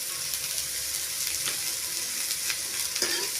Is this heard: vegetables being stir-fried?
yes